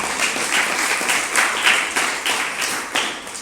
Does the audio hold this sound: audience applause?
yes